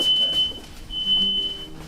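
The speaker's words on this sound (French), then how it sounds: "il y a eu l'alarme incendie, parce que comme on utilise de la machine à fumer" A house fire alarm set off by a smoke machine sounds a steady high-pitched electronic tone that carries through the whole stretch with brief breaks, under low room rumble.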